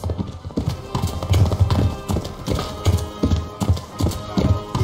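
Horse hooves clop in a steady rhythmic gait in the medieval game Kingdom Come: Deliverance, loud and close, with faint background sound between the beats.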